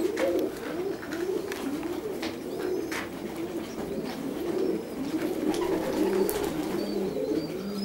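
Several pigeons coo repeatedly at close range as they come in to drink, a soft rolling, warbling chorus continuing throughout, with faint chirps and light background movement and no talking.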